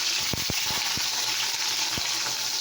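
Sliced bitter gourd fries in a pan, a constant close sizzle broken by several sharp scrapes and taps from stirring.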